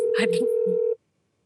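Telephone dialing on a quiz-show set for a phone-a-friend lifeline: a steady dial tone with a quick burst of touch-tone keypad beeps, loud and close, cutting off abruptly after about a second into silence.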